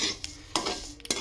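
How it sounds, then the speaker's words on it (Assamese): A metal spatula scrapes and knocks against a wok as rice flour is stirred and dry-fried, giving three or four sharp clanks over a soft, steady background hiss. "এনেকৈ লাৰি থাকিব লাগিব, নহ'লে কেৰাহীত লাগি যাব।"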